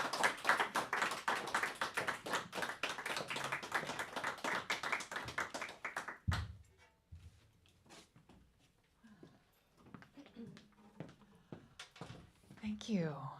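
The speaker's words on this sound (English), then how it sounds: "So let's give her a big round of applause." A concert audience claps dense and loud for a singer coming to the stage, a sustained burst of many hands for about six seconds before the applause stops abruptly and quieter stage sounds and a voice follow.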